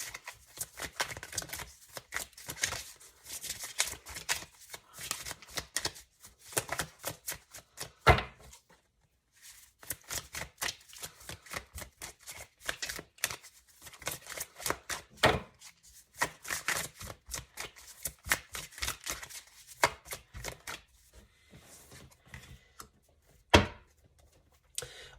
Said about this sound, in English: I'll go ahead and put them back and continue shuffling